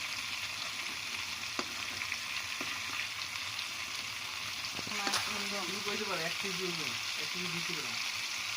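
Hilsa fish fries in hot oil with a constant bubbling sizzle. Someone talks over it in the second half.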